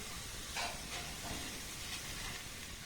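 Sweets frying in ghee in a pan over a gas flame, a steady broadband hiss with faint crackle running throughout, fairly quiet and unbroken by talk.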